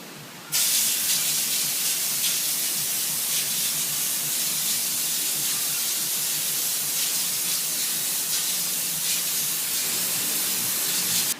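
A compressor-fed paint spray gun spraying truck bed liner coating hisses continuously and loudly after starting abruptly, a sustained pressurized spray with slight fluctuations, ending sharply.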